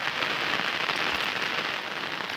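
Steady rain pours down as a dense, even hiss of drops on surfaces in a village, with no voices.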